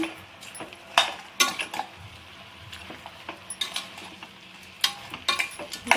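Mutton with chilli powder stirred in a pan, with a spoon scraping and clinking against the metal in irregular bursts over a soft sizzle, close and alone.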